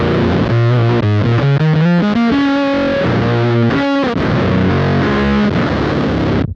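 Electric guitar played through a Fuzz Imp fuzz pedal with the high control turned down, a loud, thick, muffled distorted tone as a run of notes climbs, then sustained chords ring out before cutting off.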